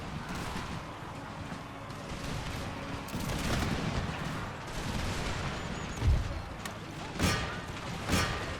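Musket volleys from massed infantry flank fire in the video game Empire 2, crackling through a continuous battle din, with three sharper, louder bursts in the last few seconds.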